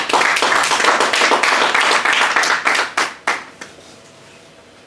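A church congregation applauding during a French-language sermon, loud rapid clapping that thins out into a few scattered claps and fades to near quiet by the end.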